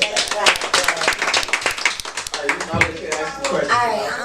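Scattered clapping from a small group rises over lively chatter and voices, continuing for a few seconds before fading under talk.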